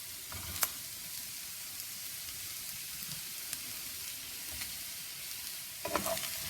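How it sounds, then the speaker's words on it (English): Mushrooms and tomatoes sauté over medium-high heat, giving a steady moderate sizzle with a few light stirring taps. "let's throw in the mushrooms now that everything is getting nice and sauteed"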